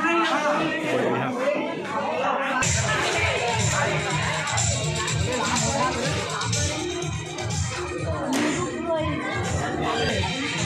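A dense crowd at a school Anand Mela fair at Brooks School makes a continuous close hubbub of overlapping voices and chatter, with a faint tone at the very start before the babble fills in.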